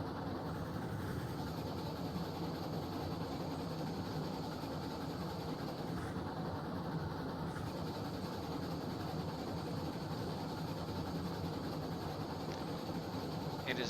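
A steam locomotive runs steadily in the RailRoads Online video game, a continuous rolling train rumble with faint clickety-clack, moderately loud and unbroken, with no voices over it.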